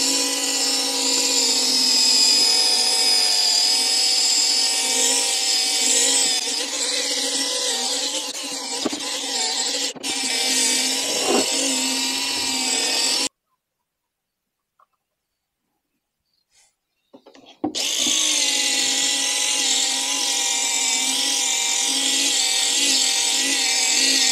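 Motorised polisher buffing Peugeot 207 tail lights, a loud continuous whirring drone that cuts out for a few seconds of silence, then resumes at full strength.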